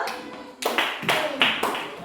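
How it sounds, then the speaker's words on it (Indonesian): Classroom applause for a student, several short bursts of close group clapping in a quick rhythm, with a teacher's voice faintly in the mix. "Tepuk tangan untuk Marsha dulu."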